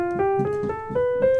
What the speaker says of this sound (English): that's the 6th diminished scale.